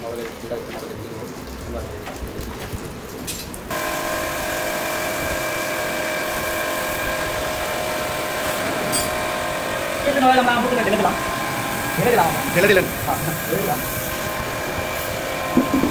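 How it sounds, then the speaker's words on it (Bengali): A Bajaj Pulsar 160 4V motorcycle engine starts after a timing chain repair, settling into a steady idle hum that sits close by, with occasional louder revs near the end and a voice speaking over it. "বাইকের ইঞ্জিনের যে কাজটা বললাম টাইমিং চেনের, তো এখন আমরা স্টার্ট করে দেখবো"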